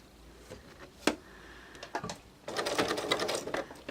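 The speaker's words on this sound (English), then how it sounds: "I'm going to go slowly the first few stitches, and now it's caught." A sewing machine stitching fabric through an adjustable bias binder attachment, starting with a few slow, separate clicks, then settling into a steady, louder run of rapid mechanical stitching, close up and without talking.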